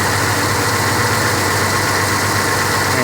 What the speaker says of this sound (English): As you can hear the revving and the knocking now. It's still as the engine is running.